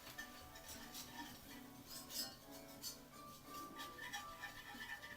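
A whisk scrapes and clinks steadily in a pan as sausage crumbles are worked into butter and flour for a plant-based Zuppa Toscana, a busy continuous rubbing with bright metallic ticks, close and fairly quiet, no talk.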